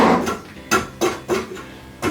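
A Silky axe chops and shapes a piece of wood into a small shovel, giving four or five sharp, loud knocks at uneven intervals, close by and with no talking.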